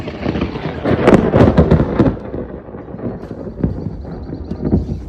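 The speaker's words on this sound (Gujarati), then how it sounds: "કેવા કડાકા થાય" Loud rumbling cracks of thunder roll through, booming strongest early on and then continuing in lower, scattered rumbles.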